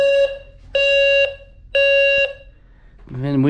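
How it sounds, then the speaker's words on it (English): A house fire alarm, likely set off by a smoke detector dripping rainwater, blares three loud electronic beeps in an even on-off rhythm, followed by a voice beginning to speak. "We have a fire alarm going off in the house."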